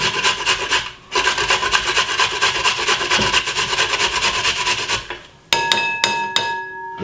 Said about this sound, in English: Then I'm going to be grating 1 medium-sized carrot.